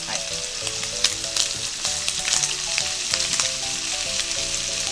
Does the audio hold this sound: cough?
no